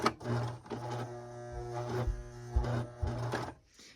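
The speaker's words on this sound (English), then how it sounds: "My serger doesn't like the denim." A serger straining as it stitches through heavy denim, its motor humming in steady bursts with brief surges and pauses as the fabric is fed slowly.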